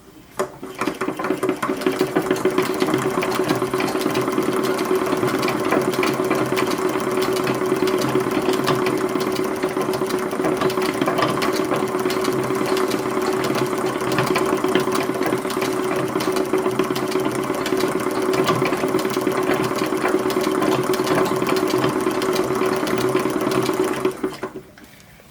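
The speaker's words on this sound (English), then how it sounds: "let's go ahead and stitch that down, which I'm going to stitch it so you see the chain stitch on the front" A sewing machine runs steadily for about 24 seconds, chain-stitching bias binding onto an 1880s-style sunbonnet, a constant mechanical whir and rattle close up that stops abruptly at the end.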